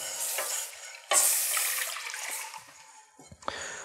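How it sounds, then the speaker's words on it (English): Whole milk whisked into a sauce in a pan, with a loud liquid splash as the milk pours in, then a steady swishing and whisking that scrapes against the pan, close by. "I'm going to whisk this in."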